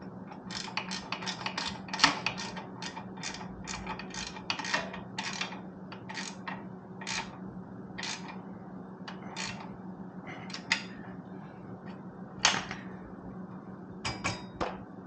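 Bolts get tightened with a ratchet while a new seat and mufflers are fitted. Quick bursts of fine clicking come up close and fairly quiet, pausing briefly and then starting again.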